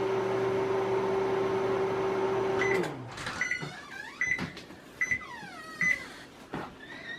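A microwave oven cooking oatmeal at power level 4 gives a steady electrical hum that stops, followed by a series of short, evenly spaced beeps with clicks and handling sounds.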